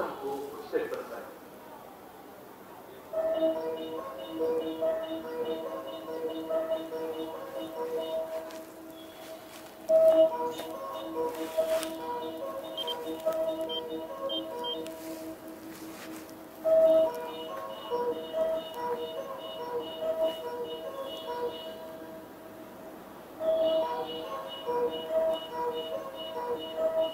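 The approach melody at JR Nagahama station plays from the platform speakers as a repeating chime-like tune, clear and moderately loud. Announcements in a voice run between the phrases, with faint platform ambience behind.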